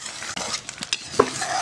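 Green mango pieces being stirred into a chutney seasoning mix, a close, steady stir with scraping and soft wet clatter across the whole stretch, with a sharper knock near the end and no talking.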